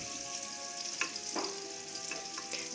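Garlic frying in butter in a pan: a steady, close sizzle that continues throughout, with a few soft stirring scrapes.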